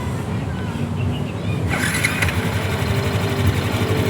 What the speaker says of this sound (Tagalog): Pangit yung tunog ng pan ito.